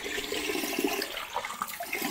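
Water gushes and splashes as a container is filled from St Cuthbert's well in Bellingham, Northumberland, a close, bright, bubbling pour with no speech.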